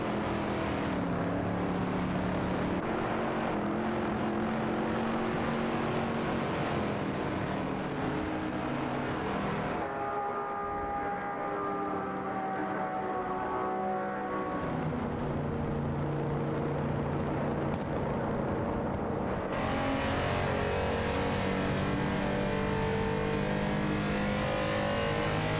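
Race cars in a video game, a Ford Falcon XA and a Ford Fairlane, roar with continuous engine drone and revving pitch changes that shift and swell throughout.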